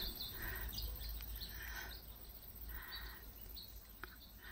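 Faint bird calls repeat in short bursts over a steady outdoor hum, distant and soft, with a few sharp chirps scattered throughout.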